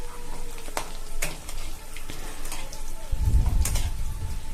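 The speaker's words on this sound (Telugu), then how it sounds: "వేసి దీన్ని కొంచెం ఒక 2 మినిట్స్ ఫ్రై అవ్వనివ్వాలి" Crushed garlic fries in a pan over a medium flame while cooking a Bengali-style brinjal curry, giving a close, continuous sizzle with scattered pops and a louder burst of frying near the end.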